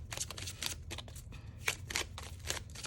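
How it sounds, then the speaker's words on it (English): Tarot cards are shuffled by hand during a pick-a-card reading, a soft run of quick riffling bursts, fairly close and quiet, with no voices. "I'm going to shuffle 3 more times."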